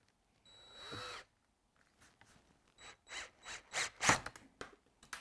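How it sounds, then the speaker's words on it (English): Power drill driving a screw into a stuck fuel injector on a Ford Escort Mk4: one short whirring burst, then a run of rising, choppy bursts that stall and catch, close and fairly quiet. "So we're going to try and screw this into here."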